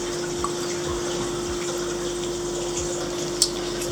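RO water is poured into a small vial as a steady, continuous trickle. A constant hum sits underneath, and a few faint clicks appear near the end.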